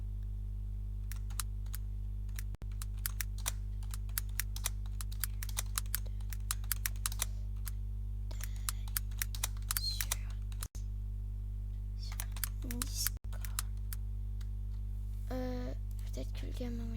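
Computer keyboard typing in irregular bursts of sharp, close key clicks over a steady low electrical hum, with a few pauses and a voice speaking briefly near the end.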